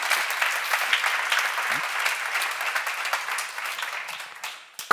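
Church seminar audience applauds in a steady dense burst of clapping that fades slightly toward the end, ending with a brief thump.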